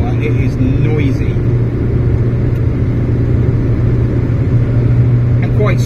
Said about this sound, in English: So it's loud, this car. At 60 mile an hour, it is noisy